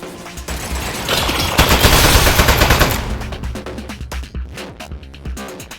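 A turret in a video game fires a rapid burst of gunfire that grows dense and loud at the middle, then breaks into sharper separate shots and clatter near the end.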